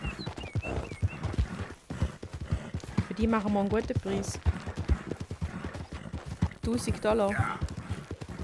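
Hooves of a stolen horse clip-clop steadily in Red Dead Redemption 2, with a brief whinny, while voices talk over the trotting.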